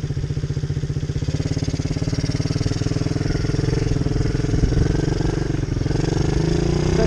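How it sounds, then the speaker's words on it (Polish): A small MRF pit-bike-style motorcycle thrums close by as its rider lets off the brake and gently opens the throttle, the engine's rapid pulsing steady then rising slightly. "Teraz puszczasz hamulec i delikatnie dodajesz gazu i startujesz."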